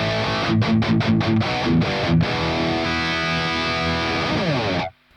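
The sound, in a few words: high-gain electric guitar through Kraken amp, reference tone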